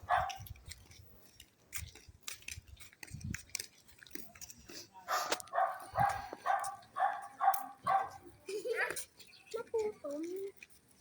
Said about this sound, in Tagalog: Oo, may mga asong nagagala.